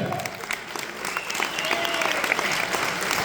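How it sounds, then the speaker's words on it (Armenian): A gathered crowd breaks into loud, sustained applause, the clapping building slightly and carrying on strongly, with a few voices faintly mixed in beneath it. "բարձրաձայն ծափարությունները"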